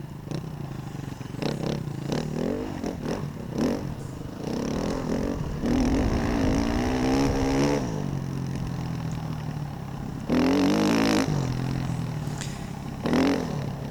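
KTM and Honda dirt bikes ride a dirt trail near Ardmore/Brookby, their engines revving and rising and falling in pitch with clattering bursts, loud and close throughout.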